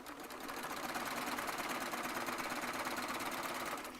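A Baby Lock Triumph serger runs steadily, stitching 2.5-inch fabric strips together for a quilt top, its fast, even mechanical whir holding close and constant for several seconds before stopping.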